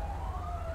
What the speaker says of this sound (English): Yeah, I definitely hear sirens right now.